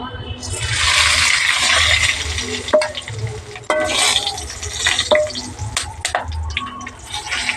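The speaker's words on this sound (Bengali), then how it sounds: "সাদা তেল আর ঘি দিয়ে এলাচ লবঙ্গ ডালচিনিটাকে ভালো করে ভেজে নিচ্ছি" Cardamom, cloves and cinnamon fry in oil and ghee for bhuni khichuri. A steady close sizzle runs under scattered stirring clicks and utensil knocks.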